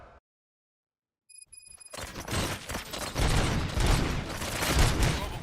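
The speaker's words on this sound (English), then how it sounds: "Gunshots? What's going on?" Rapid bursts of gunfire in the shooter game RoboCop: Rogue City, starting after a short silence and building into loud, dense, continuous firing with crashing impacts.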